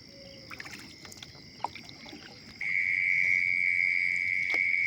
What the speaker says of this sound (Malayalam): ചീവീടുകളുടെ സൗണ്ട്